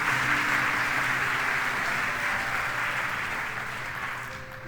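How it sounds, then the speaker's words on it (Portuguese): A church congregation at a worship service applauds steadily, with dense, sustained clapping that fills the room and slowly fades toward the end. "Dá uma salva de palmas para o Senhor."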